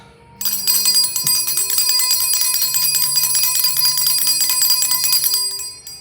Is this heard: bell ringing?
yes